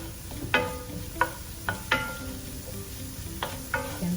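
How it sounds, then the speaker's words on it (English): Garlic and onions sizzle steadily in hot oil, with a spoon scraping and stirring through them in several sharp, irregular strokes, close and moderately loud, with no voices. "Stir that garlic around for about 30 seconds."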